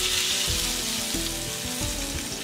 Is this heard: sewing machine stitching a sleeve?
no